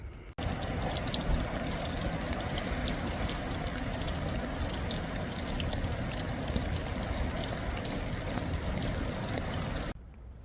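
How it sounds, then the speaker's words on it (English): Steady rain and running water hiss evenly for about ten seconds at a faint, constant level, with no voices. "I am hearing lots of rain, lots of water running."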